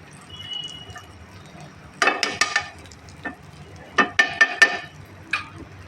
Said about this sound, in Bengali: এখন আমি বাটারটাকে সুন্দর করে একটুখানি মিক্স করে নেব